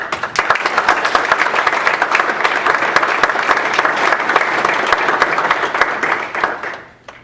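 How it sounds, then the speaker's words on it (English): An audience at a student government senate meeting applauding, dense sustained clapping from a room of people for several seconds before quickly fading out. "So we already gave her a round of applause"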